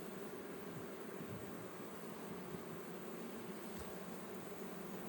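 Honey bees from a newly installed package buzz steadily around an open hive, a faint, continuous swarm hum with no talking over it.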